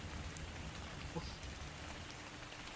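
Steady rain patters in the video game ARK: Survival Evolved, a constant even hiss of drops with faint scattered taps, quiet under the game's ambience.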